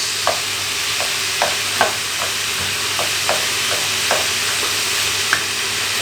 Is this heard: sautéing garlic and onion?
yes